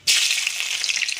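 Slit green chillies and spices hit hot mustard oil in a wok with a sudden, loud sizzle. The bright hiss stays strong and close throughout.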